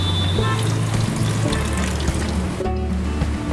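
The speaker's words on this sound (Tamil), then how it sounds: "இதுக்கப்புறம் லெமன் ஜூஸ் நான் ஊற்ற போகிறேன்." Lemon juice pours into mutton cooking for a layered dum biryani, a steady close liquid splash and trickle over a low hum, with no voices.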